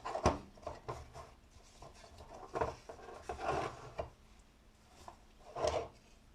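A wooden cutting board from an O'Day 28 sailboat is scrubbed with salt, producing quiet, uneven rasping rubs in short bursts at close range.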